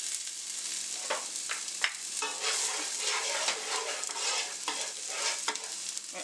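Onions fry in a hot pan while being stirred, with a steady sizzle broken by scraping strokes.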